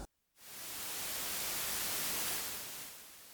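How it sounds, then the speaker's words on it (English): After a brief silence, a steady hiss of broadband noise from a Kodamo Essence FM synthesizer, feedback at maximum, swells in and holds, then eases slightly near the end. "So that's the noise with the feedback at maximum"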